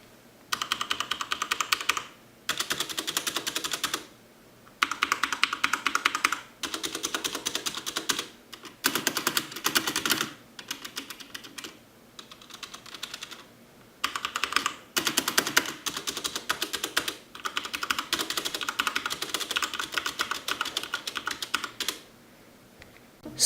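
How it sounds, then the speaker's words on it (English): Corsair K95 RGB Platinum mechanical keyboard being typed on in bursts of fast, close clicking and clacking keystrokes, with short pauses between runs and a rattly spacebar. "the rattling sound is especially noticeable on the spacebar"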